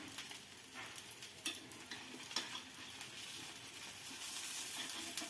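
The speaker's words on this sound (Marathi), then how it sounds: "छानपैकी सगळे आप्पे पलटून घेऊन त्या साईडने थोडेसे" Appe made from rice and mixed dal sizzle softly in an appe pan as they are flipped, with steady frying hiss and occasional light clicks and scrapes of a utensil against the pan, fairly quiet throughout.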